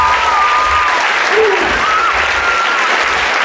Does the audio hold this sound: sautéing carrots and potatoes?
no